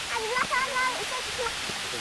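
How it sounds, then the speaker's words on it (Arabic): Waterfall dropping about 20 metres over a rock cliff of stalactites and stalagmites inside a cave, a steady broadband rush filling the space, with voices echoing over the water. "تسقط مياه الشلال فوق جرف من علو يصل حوالي 20 مترا مرتفع فوق تشكيل صخري متحجر من الهوابط والصواعد فيحدث خريرا"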